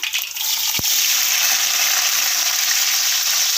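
About a hundred grams of chopped small onions (shallots) hit hot oil in a pan for black chickpea kuzhambu, a bright, steady sizzle that swells right after a short clack and then crackles on evenly.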